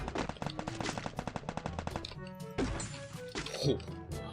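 Rapid automatic gunfire from the shooter game Free Fire rattles in a dense burst, then gives way to a few heavier isolated shots, loud and close with game ambience beneath.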